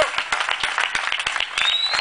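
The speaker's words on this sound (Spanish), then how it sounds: "un gran aplauso para ellos," A crowd claps and applauds for a rock band at a live event in Isla Maciel, with dense, steady clapping close by and a faint voice underneath.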